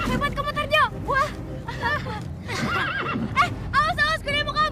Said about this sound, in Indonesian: Awas, kuda mau kabur!